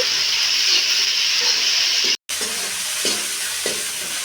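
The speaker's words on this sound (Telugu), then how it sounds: "అది వేసుకున్న తర్వాత పచ్చి వాసన పోయేంత వరకు ఇది వేయించుకోవాలండి" Ginger garlic paste fries in a pan with a loud, continuous sizzle and hiss, broken once by a brief silence, and is occasionally stirred.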